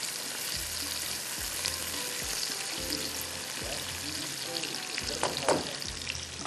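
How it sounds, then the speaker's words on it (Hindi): Garam masala frying in a pan for a white lobia pulao gives a steady, fairly soft sizzle with periodic scraping stirs of a spoon along the bottom, close and uninterrupted. "अब इसको करते हैं अच्छी तरह से फ्राई"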